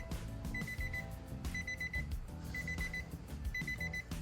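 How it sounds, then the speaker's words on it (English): Car door-open warning chime beeping in four regular bursts about once a second, a steady high electronic tone over loud low music playing through the car's speakers. "you gonna get that beeping because the door's open"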